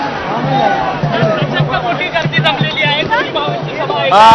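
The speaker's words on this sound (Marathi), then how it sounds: "तिन्ही गेटवर सध्या गर्दी झालेली आहे" A large crowd of party workers packs the gates outside Worli Dome, its dense babble of many voices filling the space steadily, with a reporter talking close over it.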